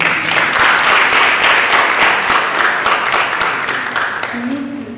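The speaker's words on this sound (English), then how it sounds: "So I think she deserves an round of applause." An audience at an Innovation & Tech 4 Girls panel in Accra, Ghana claps for a panelist, loud dense applause that slowly tapers, with a voice starting near the end.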